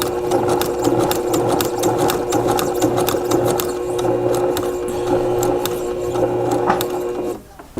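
Sewing machine stitching quilting on a small quilt project, a loud close continuous mechanical whir with rapid needle clatter, running steadily before stopping abruptly near the end.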